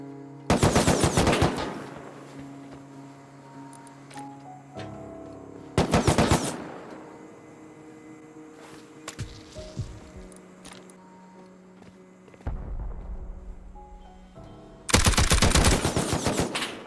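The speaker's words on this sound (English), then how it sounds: "I've heard an auto turret going off there a few times" An automated turret in the survival game Rust fires short, loud bursts of rapid shots at intervals, separated by quieter stretches of distant game ambience.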